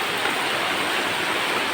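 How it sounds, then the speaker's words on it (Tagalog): Heavy rain pours down steadily and loudly, a dense continuous hiss with no break and no voices. "Dahagi na ulan."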